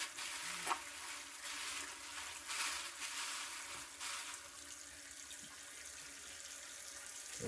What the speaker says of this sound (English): Okay, the tank's almost full.